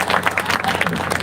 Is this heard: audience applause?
yes